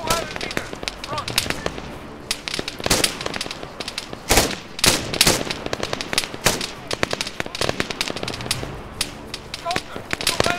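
Rapid machine gun fire in ARMA 3 crackles in dense bursts of sharp reports, loud and continuous, while a voice talks over the shooting.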